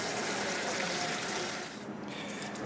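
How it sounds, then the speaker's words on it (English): Tap water gushes steadily into a small basin for washing archaeological artifacts, a loud continuous rushing fill whose tone shifts slightly partway through. "so I'm going to fill up my little basin here with water."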